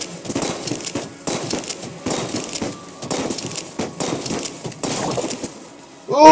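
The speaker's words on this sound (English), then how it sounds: "Gonna shoot some flares through this hole." Flares fired in the video game Enter the Gungeon, a series of short sputtering bursts and crackles repeating about every second, moderate in level, ending with a brief tonal chime, with no talk.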